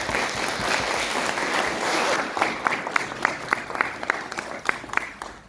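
A crowd claps steadily, starting as a dense wash of applause and thinning into scattered, distinct claps toward the end.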